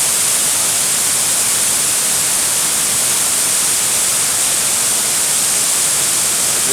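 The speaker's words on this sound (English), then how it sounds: "Listen to the waterfall." A waterfall near the Douglas Hotel rushes in a steady, loud, unbroken hiss of falling water, with no voices over it.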